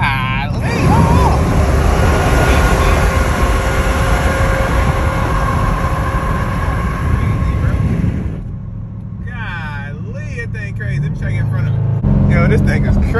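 Loud road and engine rumble from driving on a freeway beside a large Ford F-650 truck, with a steady drone that dips partway through while someone talks over it.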